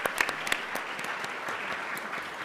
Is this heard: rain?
no